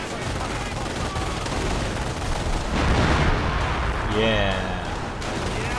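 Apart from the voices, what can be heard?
25-pounder howitzer artillery firing in video game Company of Heroes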